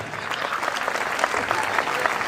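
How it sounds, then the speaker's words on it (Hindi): A crowd at a Hindi comic poetry gathering marking a silver jubilee in Sonipat, Haryana, breaks into steady, close applause that continues evenly for the whole moment, with faint voices mixed beneath. "एक बार जरा तालियां बजा दीजिए"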